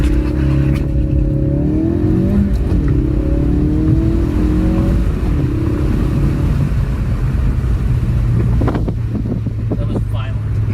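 A Ford Focus RS or VW Golf GTI hatchback engine accelerating hard through the gears with rising revs and wind rushing past, loud and continuous, ending in a shift and steady drone.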